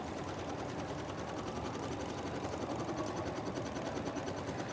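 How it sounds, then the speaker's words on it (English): An 830 sewing machine fitted with a cutwork foot runs at high speed, a steady dense whir with a fast rapid needle chatter, close and continuous with no talking. "the great thing about that 830 is how fast it can sew for me"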